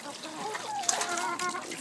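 Water splashing and trickling while a chicken waterer is washed out and filled, irregular close splashes and dribbles with faint clucking nearby.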